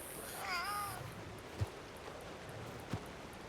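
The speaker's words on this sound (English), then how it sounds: "what is that cat eating?" A cat meows once, a short wavering call, within the open-world ranch setting of Red Dead Redemption 2 roleplay, set against steady rain-like ambience with a couple of faint thumps.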